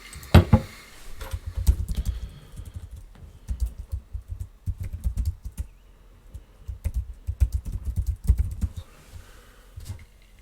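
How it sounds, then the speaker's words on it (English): Typing on a computer keyboard, close, uneven bursts of clacking keystrokes with short pauses, no talk. "I'll type it in."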